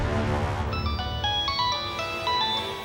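A phone ringtone for an incoming call, a bright repeating electronic melody of stepped tones that plays clearly and fairly close over a low room hum, with no talking.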